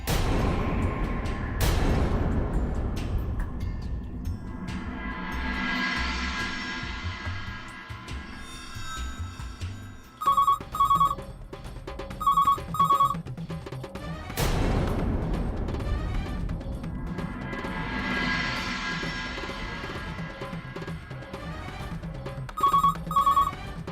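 A telephone rings in short repeated bursts within a Hindi-language drama scene, heard among other loud noises and music-like sounds, at moderate volume.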